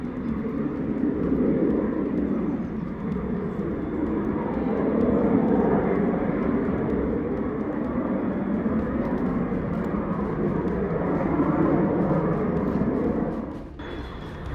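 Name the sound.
Zephyr trainer jet on an aborted landing and go-around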